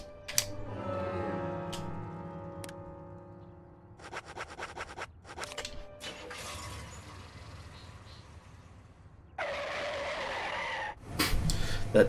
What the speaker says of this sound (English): That tire screeching sound is great.